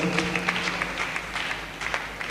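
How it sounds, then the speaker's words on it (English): Audience applause at a leadership empowerment conference, a short burst of clapping from a hall crowd with some voices mixed in, fairly steady but not very loud. "I thought we have a bigger round of applause"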